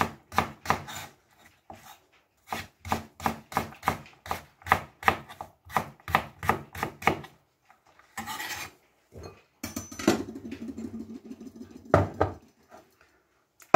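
A knife chops carrots rapidly on a cutting board, a steady run of crisp, evenly spaced strikes, then pauses and some scraping and rustling before a final few cuts.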